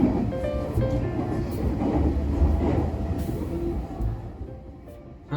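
A commuter train in Tokyo runs toward Akabane station, a steady rumbling roar with rail clatter rising and easing, heard from inside the carriage.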